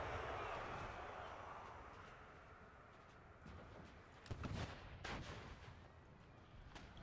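Cannon artillery in the Empire Total War game fires a couple of sharp distant booms over a quiet rushing battlefield background, with a voice talking softly throughout.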